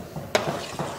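A spoon stirs Malabar biryani masala in a pot, giving two short, close scraping and sizzling strokes with a quieter rustle between them.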